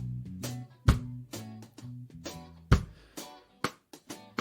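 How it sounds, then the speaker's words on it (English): Reggae drum kit played by a live drummer and captured through the full set of drum microphones, with punchy kick and snare hits, tom-like tonal thumps and crisp cymbal ticks in a syncopated groove, close and loud with no voices. "this is how the drum set sounded through all the drum microphones."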